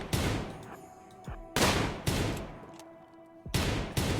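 Gunfire in the zombie video game Zombies in the Fog: several loud, sharp shots in a slow, uneven rhythm, each with a booming decay and some ringing between them.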